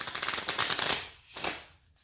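Tarot cards that keep sticking are shuffled by hand in a quick rattling burst, a brief pause, then a shorter riffle that trails off, close and alone.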